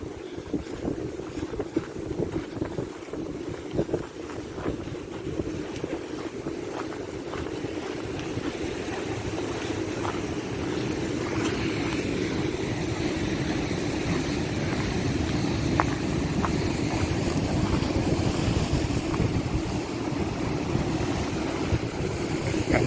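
Ocean waves at El Golfo on Lanzarote, a continuous rushing surf roar with steady wind noise buffeting the microphone, loud and unbroken throughout with no talk.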